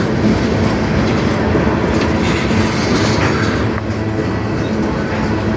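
A CN train rolls past on the Strathroy Sub in Sarnia, a steady, loud rumble of railcars with wheel clatter that holds the whole time, no talk over it.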